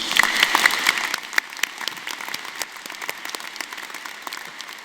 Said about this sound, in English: So let's have a quick round of applause for all the new students at UCI.